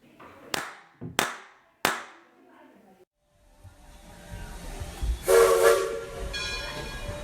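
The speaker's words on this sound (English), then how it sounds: "The train is now leaving the Interpretation Station." Three sharp, evenly spaced claps ring out, then a train departure effect takes over, with a rumbling rolling rise and a bright whistle or horn blast, fairly loud and close.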